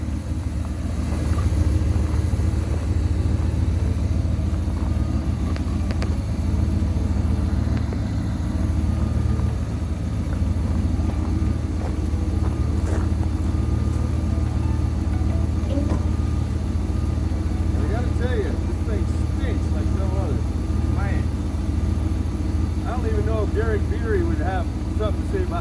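The engine of a 1957 Chevy truck runs steadily at a loud, constant drone while the transmission is tried out, with small clunks and noises scattered across the long stretch.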